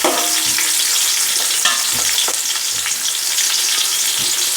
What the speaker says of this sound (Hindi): प्याज को ब्राउन होने देंगे।